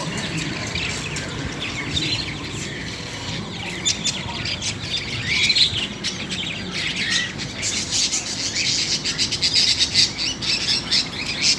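Many small birds chirp and tweet continuously in a pet shop, a dense chorus of high calls with occasional squawks, fairly close and steady throughout.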